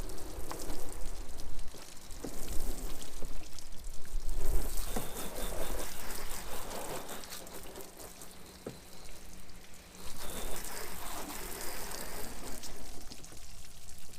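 Whale portable pump spraying water from a hose nozzle onto a caravan, a steady hissing spray that shifts in loudness as the jet moves across the surface.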